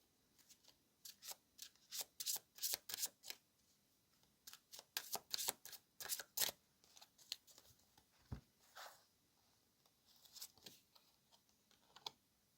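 Tarot cards shuffled and flicked down in quick bursts of crisp snapping and riffling, clustered in busy runs with short pauses between, close and fairly quiet with no talking.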